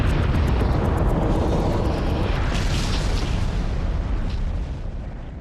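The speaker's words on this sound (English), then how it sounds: "Diamonds are carried by the hot magma flow to the surface, where it erupts, often violently." Volcanic eruption sound effect, a loud, continuous rumbling roar with rushing noise that fades slightly toward the end.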